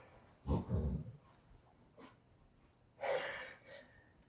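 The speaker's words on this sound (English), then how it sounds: "The dog just snorted, we're boring him." A dog snorts twice during a quiet home yoga session, two short breathy bursts a few seconds apart, fairly close and otherwise alone.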